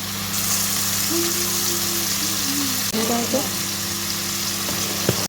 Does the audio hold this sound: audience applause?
no